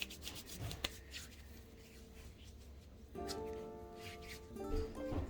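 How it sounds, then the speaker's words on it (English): Hands being rubbed together with lotion, a soft close-up swishing friction that grows busier and louder toward the end, with faint background tones. "let me put some lotion on my hands because they are just as dry as the Serengeti"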